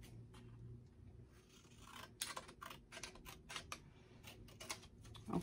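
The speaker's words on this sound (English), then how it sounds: "And I'm just going to cut that off." Scissors cutting away excess material while building a handmade boho bunny craft book: a run of quick, close, crisp snips and clicks after a quieter start, with no voices.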